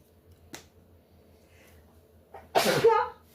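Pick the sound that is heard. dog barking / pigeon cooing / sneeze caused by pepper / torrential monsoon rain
sneeze caused by pepper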